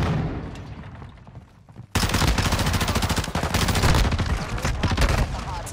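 Tempus Razorback rifle fire in Modern Warfare II bursts in abruptly after a quieter stretch of game sound, a loud dense rattle of rapid shots that runs unbroken to the end, with a voice faintly mixed underneath.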